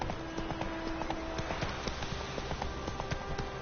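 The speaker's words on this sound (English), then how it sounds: "Whoa there, Roach." A horse gallops in The Witcher 3 video game with a steady, rapid run of hoofbeats, loud and close, over constant background ambience and without speech.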